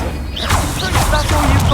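Incendio fire spell cast during combat in the Hogwarts Legacy video game, a loud, close burst of whooshing, crackling impacts with swooping tonal effects layered over it.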